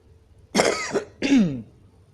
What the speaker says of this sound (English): excuse me, sorry, the cough was very loud